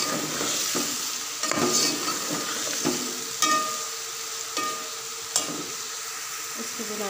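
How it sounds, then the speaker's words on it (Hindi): Tomatoes frying in a pan of ginger fried for a few minutes, a steady close sizzle with scraping stirring strokes and occasional sharp clacks of the utensil against the pan, no talking. "अब हम उसके अंदर टमाटर डाल देंगे।"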